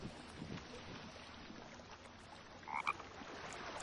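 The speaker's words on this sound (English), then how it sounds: "A frog." A frog in the video game The Forest gives a couple of short croaks near the end, set against a faint outdoor wind and ambient hiss, moderately close and otherwise quiet.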